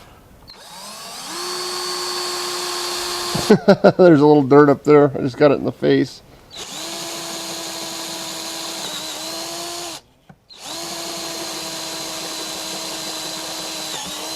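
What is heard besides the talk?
power drill drilling metal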